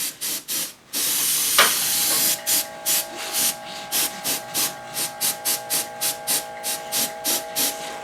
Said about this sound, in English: if you're not careful and you overspray this, you can make it look too orangey